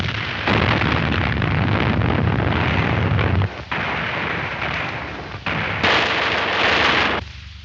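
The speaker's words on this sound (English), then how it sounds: "Open fire, independent, higher." A World War II corvette's naval guns fire in a 1943 film, a loud run of heavy blasts and sustained bursts with brief gaps between volleys, harsh and close.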